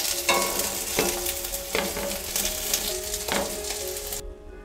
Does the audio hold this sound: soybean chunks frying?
yes